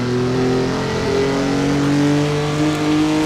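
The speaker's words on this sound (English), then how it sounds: "Using the entire rev range just to try to get as much out of this engine as I can." A historic race car engine in Assetto Corsa, racing at the Pau Grand Prix, holds a loud steady high-revving drone that climbs slowly in pitch as the car is pushed through its rev range, with no speech.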